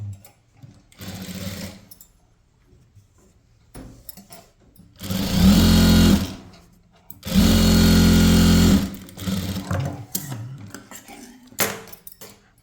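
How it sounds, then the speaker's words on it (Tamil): A sewing machine stitches a blouse lining in two loud, close bursts of whirring, each lasting a couple of seconds, with quieter handling clicks and fabric rustles between runs. "பிரித்து இந்த லைனிங் மேலே ஒரு பறிச்சு தையல் போடலாம்."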